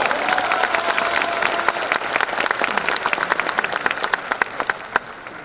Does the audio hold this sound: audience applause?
yes